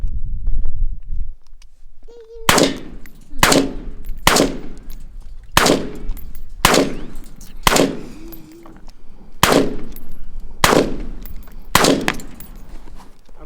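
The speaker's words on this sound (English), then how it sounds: "I'm gonna shoot the tire." Shotgun blasts fired at a tire, nine loud, sharp reports spaced about a second apart after a quiet start, each ringing out outdoors, with no talking between them.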